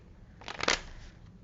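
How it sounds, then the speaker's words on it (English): Tarot cards from the Gilded Tarot deck being shuffled by hand, a single quick riffle of papery flutter and slaps up close, rising and fading within about a second in a quiet room. "I'm just going to continue to shuffle a bit more for Cancer."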